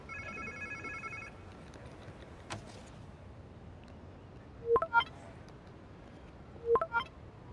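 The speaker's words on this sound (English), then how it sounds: "Sounds like somebody's phone." A faint electronic tone at the start, then a phone in the video game Marvel's Spider-Man 2 rings in two short double trills a couple of seconds apart over a low background hum.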